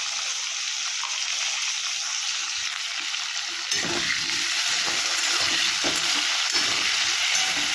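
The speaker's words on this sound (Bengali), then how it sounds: "এবার আলুটা গোল্ডেন কালার করে ভাজতে হবে" Diced potatoes with salt and turmeric fry in a pan, a loud, steady, close sizzle with stirring scrapes and crackles that grows slightly louder partway through.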